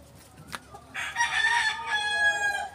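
SBR broodcock roosters kept in a backyard cage give a short cluck, then a loud, drawn-out crow close by.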